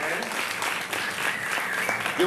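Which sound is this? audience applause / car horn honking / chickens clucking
audience applause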